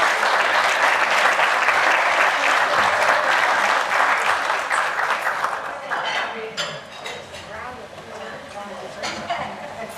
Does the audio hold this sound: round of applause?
yes